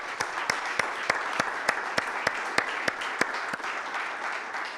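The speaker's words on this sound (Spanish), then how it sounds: "Dele un aplauso." A church congregation claps during a Sunday service, giving steady, moderately loud applause with a few sharp, evenly spaced claps standing out above the crowd.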